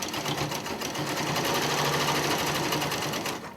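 A sewing machine runs steadily, stitching a double side seam through layered quilt fabric, a close, continuous whirring hum with a fine rapid needle rhythm throughout.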